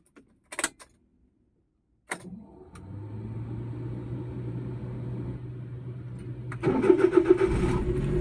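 A Suzuki DA64V multicab engine cranks and catches after a few clicks and a pause, then settles into a steady idle that rises louder toward the end, heard close with no talking.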